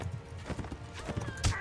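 Horse hooves clip-clopping with a brief whinny in the medieval combat game Mount and Blade Warband, fast quick hoofbeats at moderate loudness blended with game battle noise and a player's voice over it.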